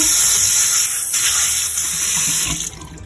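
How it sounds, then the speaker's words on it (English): Water runs steadily from a kitchen tap over dry farro in a strainer, a loud, constant splashing hiss that eases off near the end. "First, let's rinse off our farro."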